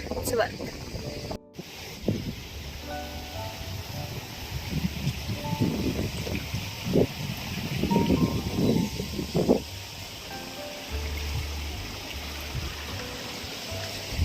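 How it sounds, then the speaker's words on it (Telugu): Water from the hills running through a drainage channel on a trek in the Datar hills, Junagadh, a soft steady trickling hiss, with someone talking over the middle part. "సో ఎక్కడి నుంచో కొండలు వచ్చి వాటర్ ఇలా వస్తుంది"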